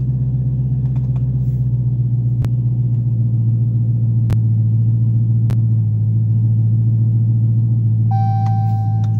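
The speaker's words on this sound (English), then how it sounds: "That is the sound of the traction control being turned completely off." A race car engine idles loudly at a dragstrip with a deep, lumpy burble, steady throughout, with a few sharp clicks and a brief high electronic beep near the end as traction control is switched off.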